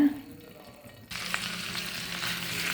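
Jackfruit being stirred in a little ghee in a heavy-bottomed uruli pan, a steady hiss of frying and scraping starting after a quiet moment, close and continuous.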